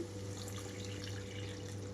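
Water runs in a steady, continuous stream, a low gurgling flow with a faint hum beneath it, lasting the whole moment without pause.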